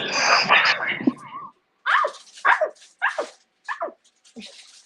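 A woman imitates a dog with her voice, giving a run of short, loud woofing barks one after another. Talk comes just before the barks.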